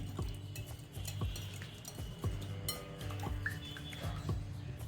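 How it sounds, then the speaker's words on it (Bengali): Three room-temperature eggs being whisked briskly in a bowl, a quick regular rhythm of utensil strokes clinking against the side, close and moderately quiet. "এবার এই ডিমগুলোকে ভালো করে ফেটিয়ে নিচ্ছি"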